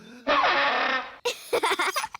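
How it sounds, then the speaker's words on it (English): A silly-sounding cartoon instrument, the sparl throttle, plays a long buzzing, warbling blare for about a second, then a short gap before a run of choppy honking bursts, loud and close. "That's the sparl throttle."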